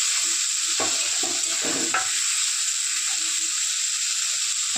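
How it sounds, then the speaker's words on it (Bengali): Mixed vegetables for masala Maggi, including beans, onion, tomato and carrot, sizzle steadily in a frying pan, with a short burst of scraping stirs early on before the hiss carries on alone. "সবজিগুলো একটু ভাজা হয়ে যায়"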